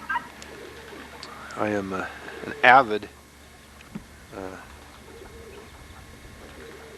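Racing pigeons in a backyard pigeon loft give a few soft, throaty coos at close range, spaced a second or two apart, while someone talks over a low steady hum.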